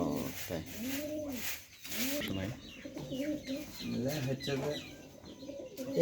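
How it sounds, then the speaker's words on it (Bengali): Pigeons coo in repeated soft, rolling calls at close range, several birds overlapping in a steady rhythm, with faint background sounds. "এটা কি কবিতর এটা কালশিরা"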